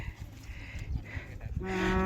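A bull, one of a herd of range cattle kept for sale, lows close by in a long, loud moo that swells toward the end over faint background noise.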